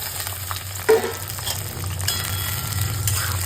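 Green chilli, onion and capsicum frying in a pan while being stirred. A constant sizzle runs under one sharp utensil clink and the scraping of the stirring.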